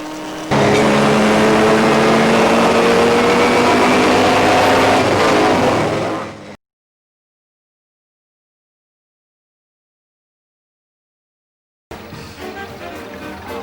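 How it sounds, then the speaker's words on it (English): Race cars scream at speed through the fast S-bends, Dipper and Forest Elbow of a mountain circuit, a loud sustained engine wail for about six seconds, then silence before engine noise resumes. "This gives you an idea of the speed racing drivers tackle the S's, the Dipper and Forest Elbow"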